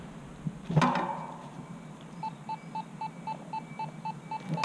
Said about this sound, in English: Once you hear the beep, you slow down.